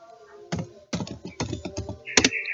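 Computer keyboard typing while entering a spreadsheet formula: a few separate clusters of quick clicky keystrokes, close and fairly quiet, ending in a sharper double click.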